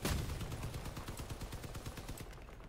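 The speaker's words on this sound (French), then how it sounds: "Oh, il tire encore! Il tire encore!" Vehicle-mounted weapon fire in the video game Crossout, a rapid series of sharp, close, evenly spaced shots rattling out for nearly three seconds before fading.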